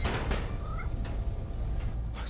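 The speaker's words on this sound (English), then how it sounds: "Just need to find Tails' cat." A cat meows faintly a few times inside Spider-Man: Miles Morales, a side-quest cat heard over a steady wash of noisy game ambience.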